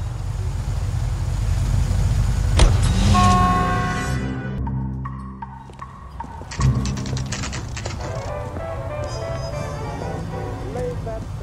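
Car driving in the video game L.A. Noire: a steady engine rumble and road noise, with a horn-like tonal burst and mechanical clunks partway through, loud and continuous under the game's sound mix.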